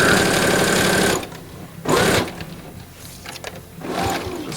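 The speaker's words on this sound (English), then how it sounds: "Just sew across the end." A sewing machine runs in a loud burst as it stitches across the end of a small fabric earbud case, pauses, then sews again in shorter, quieter runs.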